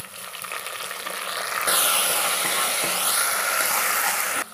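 Green chillies, curry leaves, mint and ginger-garlic paste for mutton curry fry in a pan with a steady, close sizzle that swells louder midway and stays hissing until it cuts off abruptly.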